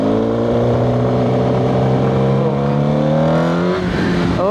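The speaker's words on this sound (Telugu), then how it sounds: "so now let's give throttle and see" A Suzuki GSX-R1000 motorcycle engine with a suspected fuel injector fault revs up under throttle, a loud, close, continuous roar whose pitch climbs steadily and then wavers near the end, with no talk.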